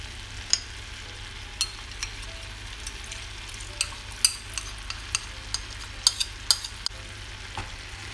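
Oyster sauce thickened with a cornstarch slurry being stirred in a pan, with soft scraping strokes and light clicks of a utensil over a low steady sizzle, no talk.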